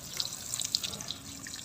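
A water spinach seedbed, grown in reused planting media, gets a light watering, with close, gentle splashing and dripping for a brief moment and no voices.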